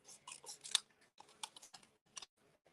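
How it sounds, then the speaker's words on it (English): Scissors fussy cutting around stamped lettering on paper for thank you cards, with a quick irregular run of close, crisp snips and small pauses between them. "I'm steering the paper with the hand that's holding the paper, and you will find fussy cutting much easier"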